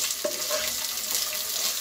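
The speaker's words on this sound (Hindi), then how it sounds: "हरी मिर्च डालेंगे और अब इसको हम ब्राउन करेंगे।" Green chillies and onions frying in a pan while being browned, a loud continuous sizzle with faint stirring scrapes close by, no talking.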